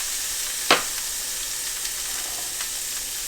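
Garlic sizzles in a warmed cast iron skillet with a steady, bright hiss close by, broken early by one sharp clink or tap, with no voices.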